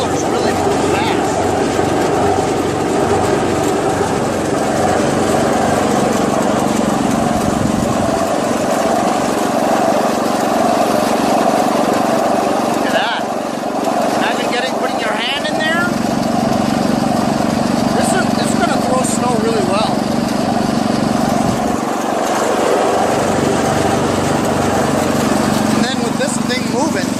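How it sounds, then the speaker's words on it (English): Vintage Jacobsen Imperial 26 snowblower with a Tecumseh push-to-prime engine runs loud and steady close by, its impeller spinning fast with a constant droning whine, while a person talks over it. "That impeller's really moving fast."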